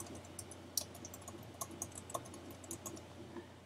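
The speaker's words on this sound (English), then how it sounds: "I'm going to type in a title." Keys tapped on a computer keyboard while entering a title into software, a quiet run of irregular light clicks at close range, with no talking.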